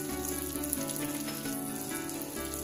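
Pieces of ginger and green chilies sizzle in melted butter in a wok, a steady, crackling fry with fine spattering pops close by and no voices.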